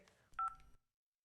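Short burst of cartoon telephone keypad tones, a few quick bright beeps close together, then silence.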